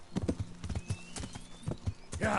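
Hooves clip-clop in a steady trot on a horse ridden in Kingdom Come: Deliverance, close and distinct, with a faint ringing tone drifting over the hoofbeats.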